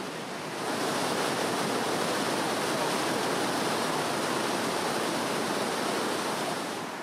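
Iguacu Falls thundering at the Devil's Throat, a dense, steady roar of plunging water that fills the scene at close range and holds unbroken from start to finish.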